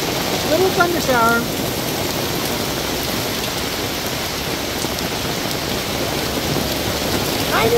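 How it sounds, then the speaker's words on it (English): Heavy tropical rain from a thunder shower pours steadily in Kigali, Rwanda, a dense, constant hiss close by, with a brief chirping sound near the start. "Little thunder shower."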